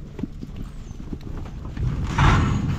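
Horse hooves clip-clop across an arena at a roping event, a run of dull, uneven thuds close by that grows busier and louder toward the end over a low background rumble.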